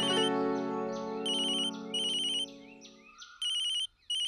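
A mobile phone plays an electronic ringtone. A sustained melodic tone fades out and gives way to repeated bright chirping bursts, loud and close, with no one speaking.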